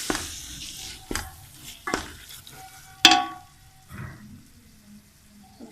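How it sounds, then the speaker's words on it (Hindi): Minced keema fries in oil with yogurt stirred in, a soft sizzle punctuated by four or five scraping stirs of a spoon against the pan, the loudest near the middle, close up and without talk. "अब आप देखें दही डालें और इसको भून लें अच्छे तरीके से"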